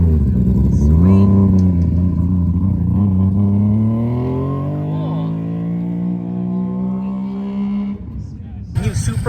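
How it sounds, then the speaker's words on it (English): A Mazda RX-3 competition drift car accelerates past at a Formula Drift car meet. Its loud engine climbs steadily in pitch for several seconds, near and dominant, with crowd voices in the background. "There goes the Mazda right there."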